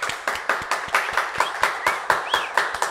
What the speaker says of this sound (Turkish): Kocaman bir alkış Ali'ye